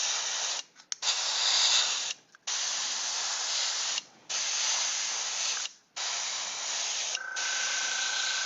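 Airbrush spraying Vallejo black primer gives a loud, steady airy hiss in five or six bursts separated by short pauses, close to the listener, with no talking.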